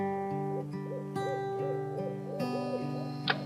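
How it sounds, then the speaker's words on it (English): An owl hoots in a short run of soft, repeated calls, set against steady background music. "Hope watches the owl."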